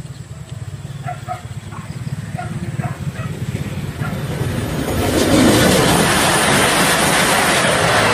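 A Whoosh KCIC high-speed train approaches and passes, starting as a steady low rumble and swelling midway into a loud, broad rushing roar that holds to the end, with a few faint barks early on.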